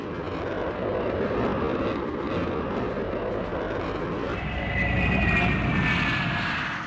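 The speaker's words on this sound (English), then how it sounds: "first wave of Israeli fighters and bombers took off" Israeli fighter and bomber aircraft take off with a steady, loud, broadband engine roar that holds for several seconds, then swells slightly as a rising jet whine joins near the end. No voices are heard.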